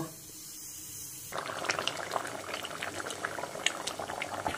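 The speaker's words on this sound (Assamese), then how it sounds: "এনেকে যেতিয়া বকবককৈ উতলি থকা মানে তৰকাৰীবিলাক খাই সঁচাকৈ খুবেই ভাল লাগে" Vegetable curry bubbles at a vigorous boil in a pot, a dense, close stream of popping bubbles that starts abruptly after a quiet moment and continues steadily.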